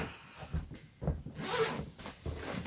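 A zipper on the interior lid pocket of a Samsonite Bartlett medium spinner suitcase is pulled open and closed in several short rasping strokes, close up, with no talking.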